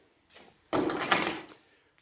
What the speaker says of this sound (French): Je dois fermer la porte.